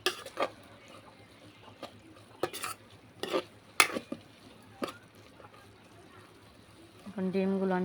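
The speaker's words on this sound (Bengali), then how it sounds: "ডিমগুলো ভালো করে ভেজে নেব, লাল লাল করে নেব।" Eggs are fried in a pan until browned for an egg curry, with a soft sizzle under repeated knocks and scrapes of a spatula, then a voice comes in near the end.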